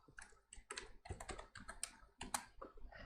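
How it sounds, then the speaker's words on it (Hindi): Rapid keystrokes on a computer keyboard while entering data into accounting software, irregular bursts of crisp clicks close up with short pauses between words. "तो यहाँ पर टाइप कर दिया जैसे पंकज"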